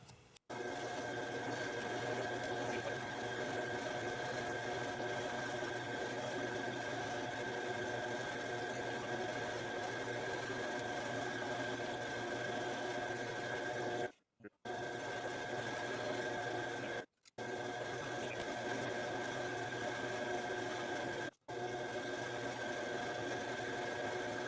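A lathe turning a one-inch follow die for a tubing bender, a steady mechanical hum and whir with a constant tone, close and continuous, broken by a few abrupt brief stops.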